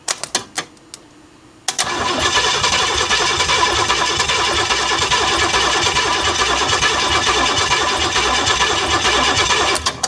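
An old Pontiac Trans Am, left sitting in the woods, cranks as it tries to start. A few short starter bursts are followed by a pause, then loud, close, sustained rhythmic cranking for about eight seconds.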